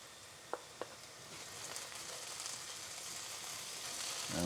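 Curry leaves and coarsely chopped chilies sizzle softly in hot oil, a steady faint frying hiss after two brief early clicks, swelling slightly toward the end.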